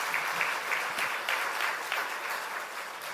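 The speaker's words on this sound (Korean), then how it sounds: "다시 한번 박수하겠습니다." A church congregation claps for a musical performance, a full, even round of applause from many hands that stays steady and fairly loud from start to finish without any speech over it.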